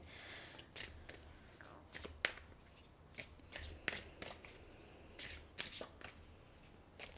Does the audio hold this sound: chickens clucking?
no